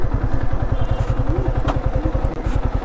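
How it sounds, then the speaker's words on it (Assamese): A motorcycle engine thuds along in a steady low rhythm at close range while being ridden slowly toward a parking spot at a busy food fair, with faint clatter around it. "বাইকখন পাৰ্ক কৰি লওঁ ইয়াতে"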